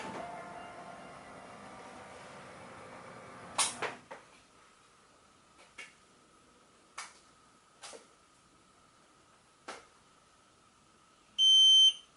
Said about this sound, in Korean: 전원을 연결하면은 삐 소리가 나고